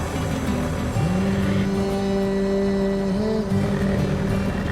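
A car drives steadily, its engine note rising as it revs up and then holding a smooth, continuous hum throughout, close and fairly loud, with no talking.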